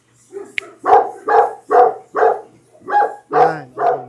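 A dog barks eight times in a steady rhythm, the barks loud and close, with a brief high yelp near the start.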